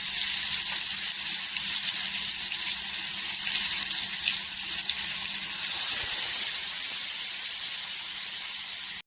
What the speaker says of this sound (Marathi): आता इथे पूर्णपणे चिकन अशी तव्यावरती टाकून घ्यायची.